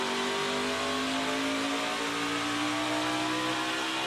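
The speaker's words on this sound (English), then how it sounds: "Listen to the throttle, how early he has to lift." A race car's engine at speed in the rain drones loudly and steadily with shifting throttle tones as the driver lifts early. No voices are heard over it.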